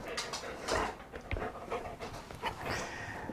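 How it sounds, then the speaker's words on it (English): Two dogs pant close by in quick, steady, huffing breaths, with an occasional soft whimper mixed in. "And now we have 2 dogs up here at once."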